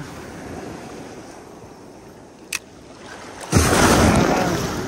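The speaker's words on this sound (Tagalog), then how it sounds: "Ang laki ng alon." Big ocean waves rolling at sea during a fishing trip, a steady roar of surf and wind noise that swells into a louder broadband rush near the end, with one brief sharp splash midway and no voices.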